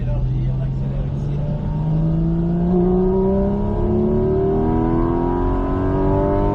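A car accelerating hard around the Bresse racing circuit, its engine note climbing steadily in pitch through a long rising pull, loud and close throughout with no speech.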